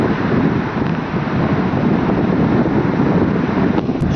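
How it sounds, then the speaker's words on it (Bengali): Sea waves surging onto the shore at Gangasagar, a steady broadband roar close by, heavily buffeted by wind noise against the microphone. "অলরেডি ঢেউ কিন্তু অনেকটা উপরে চলে এসছে"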